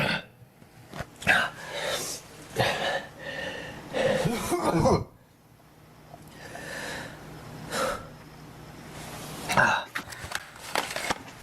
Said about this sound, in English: Jay seemingly has a very random, violent coughing fit, making him stumble onto his knees.